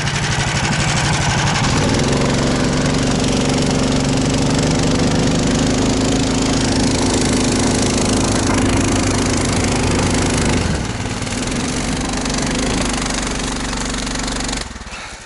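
A motorized towing sled with a 20-horsepower engine runs in swampy taiga, a loud steady mechanical drone that rises in pitch after a couple of seconds, holds close and constant, then drops back near the end.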